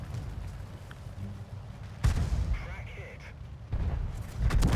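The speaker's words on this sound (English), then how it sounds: "M44 had a good shot there to end this game" M44 self-propelled artillery firing in World of Tanks: heavy booming shots and rumbling blasts over steady game noise, with someone talking over much of it.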